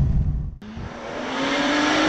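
A BMW 435i coupé pulls hard, its engine note rising steadily in pitch as it accelerates after a brief gap, loud and close from inside the car, with no talking.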